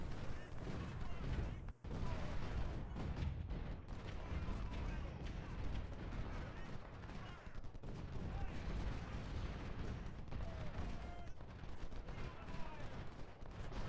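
Artillery firing canister in the Ultimate General: Civil War game: dense, continuous battle noise of booming cannon and crackling musketry with no gaps, under a voice.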